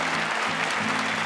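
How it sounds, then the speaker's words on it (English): Applause from the studio audience of the magic competition show Penn & Teller: Fool Us, a brief, even burst of clapping with a low hum beneath. "Good applause for him, please"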